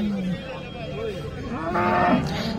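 Cattle moo loudly and close by at the Sangola cattle market in Maharashtra, a drawn-out low call followed by a rising, strained bellow that swells louder toward the end, with crowd murmur underneath.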